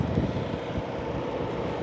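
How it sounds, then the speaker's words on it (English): Steady wind buffets the microphone with a continuous low rumble and broadband rush, without a break. "a little bit windy."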